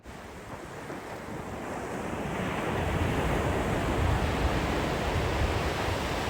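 Waves breaking on the beach at Sandsend, North Yorkshire, a broad continuous roar of surf that swells and stays loud, mixed with gusting wind buffeting the microphone, with no voices.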